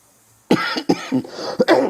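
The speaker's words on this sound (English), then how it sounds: "I only cough when I talk." Several harsh coughs in quick succession, close and loud, separated by short gaps, with no talking.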